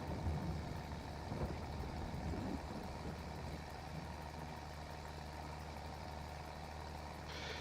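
A tractor engine in a farming simulator game set in Green Valley, Nebraska, drones steadily up close, a low continuous idle-like rumble with no speech.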